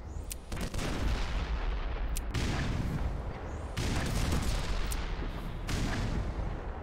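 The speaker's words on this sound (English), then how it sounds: "Can I throw grenades far enough?" Repeated booming blasts in the video game Black Mesa, with several loud explosive bursts and a heavy low rumble rolling between them, no talking.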